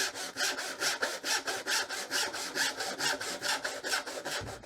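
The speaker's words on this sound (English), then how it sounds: "I'm now going to cut a couple of sections here that are about 1 centimetre apart" A hand saw cuts kerfs about a centimetre apart in wood for a half lap joint, with steady rhythmic back-and-forth rasping strokes, roughly three per second, close and clear with no talk.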